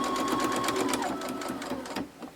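A sewing machine stitches fabric for a pincushion gift, a close, rapid run of needle clatter with short pauses, faint and alone.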